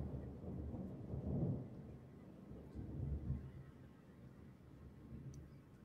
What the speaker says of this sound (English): It's just lightning.